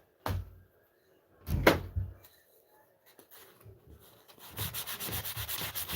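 Coarse sandpaper rasps against carved wood while a lighthouse is shaped, arriving as two short strokes, a few scattered scrapes, then a steady run of rapid back-and-forth rubbing near the microphone.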